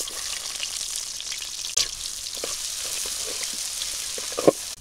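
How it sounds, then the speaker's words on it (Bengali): Chopped onion frying in hot oil gives a steady, close hiss and crackle throughout, with a couple of brief clinks from a utensil, no talking. "আমি তেল দিয়ে দিলাম, পেঁয়াজ কুচি দিলাম"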